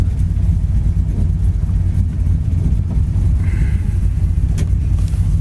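A 1968 Ford Mustang engine idles steadily, a loud continuous low rumble close by with no voices over it.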